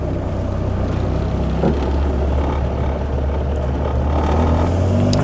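A 1967 Morris Minor with its 1098 engine drives along, its steady low engine drone and road rumble running continuously and fairly loud, with no voices over it.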